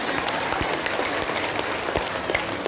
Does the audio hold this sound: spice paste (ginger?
no